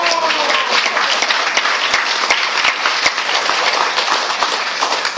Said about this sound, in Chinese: 您刚才在鼓掌的时候，心情高兴不高兴？